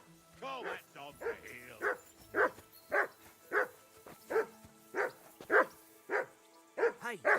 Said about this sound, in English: Call that dog to